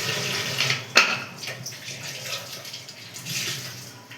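Water from a kitchen tap runs steadily while kitchen items are rinsed and scrubbed under it, with a sharp clink of a utensil early on and shifting splashes throughout.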